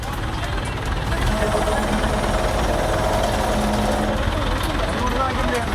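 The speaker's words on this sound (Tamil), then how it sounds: "ட்ரில்லர் கிரெயின் உதவியுடன் கோவில் நுழைவாயிலை மற்ற கடைகளுக்கு சேதாரம் ஏற்படாத வண்ணம் இடித்தனர்" A drilling crane breaks down a temple entrance gate beside shops, giving a loud, continuous jackhammer-like pounding over a rumbling engine that runs without pause.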